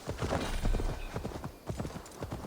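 Hooves of a summoned horse in Assassin's Creed Valhalla clip-clop in a quick galloping rhythm, close and fairly loud, with faint game ambience behind.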